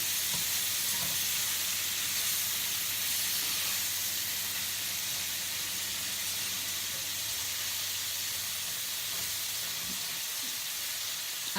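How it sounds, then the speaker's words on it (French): Broccoli sautéing over high heat in a pan, a steady sizzle and frying hiss running throughout with faint stirring scrapes, close and alone without talk. "la cuisson, elle se fait toujours à feu vif. On ne diminue pas le feu."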